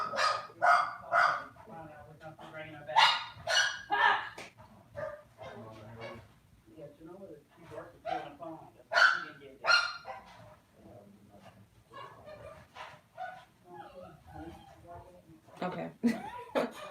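A dog barks and yips repeatedly in the background of an indoor room while someone talks over it for most of the time, the barks fairly close but softer than her voice.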